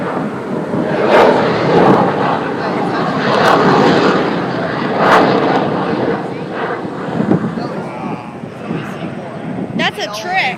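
Loud, broad roar of a fixed-wing propeller airplane flying over an air show. The roar swells and fades steadily with wind buffeting the microphone, and spectators chatter underneath.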